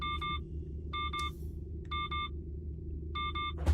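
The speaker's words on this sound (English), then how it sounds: "there's multiple notifications telling me that I should not be here right now" A coach bus sounds its warning notification in a heavy-vehicle driving game: four evenly spaced bursts of bright electronic beeps repeat about once a second, heard clearly over a low engine rumble.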